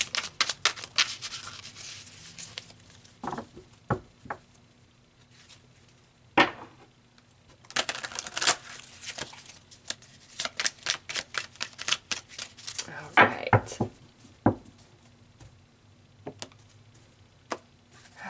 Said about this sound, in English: So let's pull some more cards here, Taurus, and see what else is going to come out.